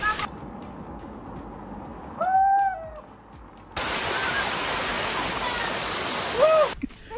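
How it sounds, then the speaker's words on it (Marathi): A hidden waterfall at Dongarwadi near Vadgaon Maval roars as a broad, steady rush that grows louder and fuller partway through, with a couple of brief whistle-like tones over it and no talk. "तुम्हाला मी अजून एक हिडन असा धबधबा दाखवतो या डोंगरवाडीचा, खूप सुंदर आहे"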